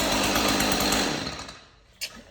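A chainsaw that had been hydro locked runs loud and steady at close range, then its engine dies away, leaving near quiet apart from one brief knock.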